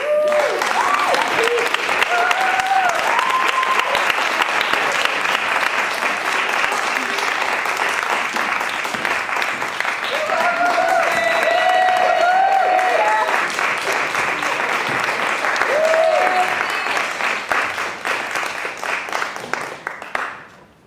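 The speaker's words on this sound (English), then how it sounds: "Please give a warm round of applause to the Peace Group." Audience applause and cheering fill a school arts and human rights presentation as the Peace Group is welcomed, a steady loud wash of clapping lasting about twenty seconds with scattered whoops and voices over it before it cuts off.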